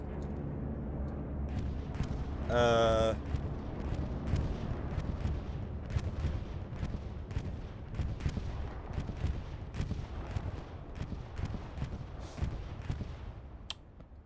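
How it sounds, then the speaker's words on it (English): A bombing run in the World War II shooter game Hell Let Loose: dense, rumbling battlefield noise with repeated heavy impacts and crackling bursts, plus a brief rising whine near the start, continuous and fairly loud throughout. "Are we now gonna see a bombing run finally? Oh my god, a bombing run."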